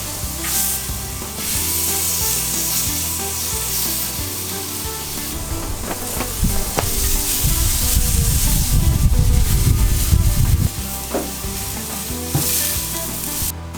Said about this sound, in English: These smaller pieces are starting to get close, so I'm going to roll them around and make sure I get the sides seared.